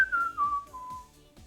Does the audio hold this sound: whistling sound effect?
yes